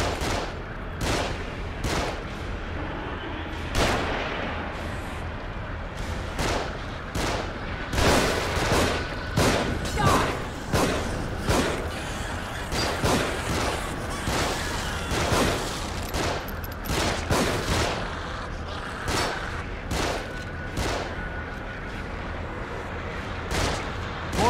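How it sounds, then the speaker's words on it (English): Enemies shooting from above in The Evil Within video game, a long run of repeated gunshots cracking out in steady, irregular bursts over constant background noise, moderately loud and unbroken for the whole stretch. "Get to cover. They're shooting from above."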